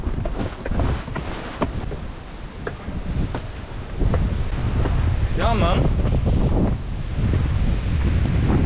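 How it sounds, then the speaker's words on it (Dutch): Strong wind buffets the microphone in heavy, rumbling gusts outdoors in Assisi, Italy, with a few short words spoken faintly underneath. "Lekker veel wind."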